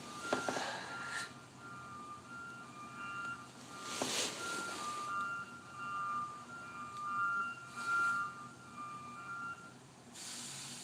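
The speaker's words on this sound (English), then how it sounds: "that's trucks. I'm like, where's that noise coming from?" Reversing trucks outside, their beeping alarm tones repeating steadily at a moderate distance, joined by a few bursts of air-brake hiss and engine rumble.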